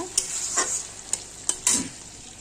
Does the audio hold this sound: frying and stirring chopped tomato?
yes